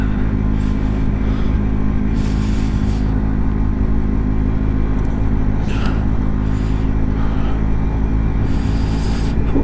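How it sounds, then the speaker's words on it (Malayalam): A vehicle engine labours in a deep, constant rumble while struggling to climb an icy road near Umling La at about 19,300 feet, loud and close, with faint clattering bursts over the drone. "കയറുന്നില്ല കേട്ടോ വണ്ടി"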